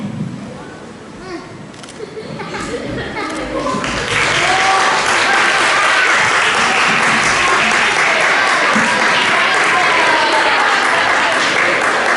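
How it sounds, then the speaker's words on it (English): Audience applause at a school summer celebration, swelling from scattered claps into sustained, loud, steady clapping that fills the room with some voices mixed in. "One more round of applause for them."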